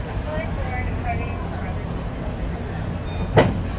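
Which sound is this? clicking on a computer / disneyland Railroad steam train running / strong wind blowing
disneyland Railroad steam train running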